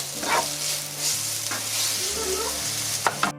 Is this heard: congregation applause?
no